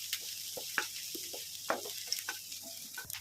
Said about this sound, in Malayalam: നമ്മൾ വെളിച്ചെണ്ണ ഒഴിച്ച് കഴിഞ്ഞാലേക്ക് ഇഞ്ചി വെളുത്തുള്ളിയും ചേർത്ത് നന്നായിട്ടൊന്ന് വഴറ്റിയെടുക്കാം